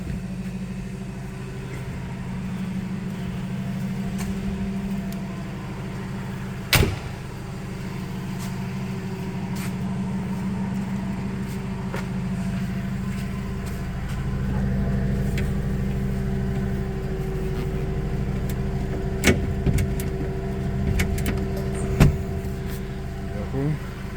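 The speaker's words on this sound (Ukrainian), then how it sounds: "Зараз покажу, як працює гідравліка, коробка передач, як він прискорюється." A 2018 Toyota 02-8FGF30 gas forklift runs its hydraulics, shifts and accelerates: a steady low engine drone with rising revs and a few sharp mechanical clunks, while someone talks over it.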